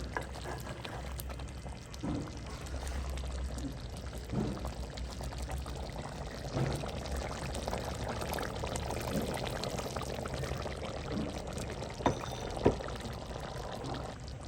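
Coconut milk poured steadily into a pot of Jaffna-style chicken curry, a soft continuous splashing with faint simmering underneath and no talking.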